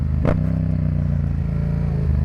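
A motorcycle on a small group ride, its engine a loud steady drone close by, with one brief rising whoosh early on, probably another bike passing at speed.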